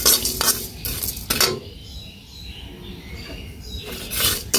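A knife cuts up a duck in a home kitchen: irregular clinks, scrapes and knocks come in short bursts, with a quieter stretch in the middle and no talk.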